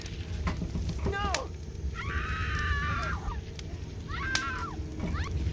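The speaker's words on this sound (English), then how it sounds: "The canned scream was a little cheesy." A canned, somewhat cheesy horror scream sound effect in a Silent Hill fan film, two rising wailing cries over a rumbling dark backdrop with a brief voice at the start.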